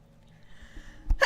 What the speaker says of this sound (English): I sneezed right in your face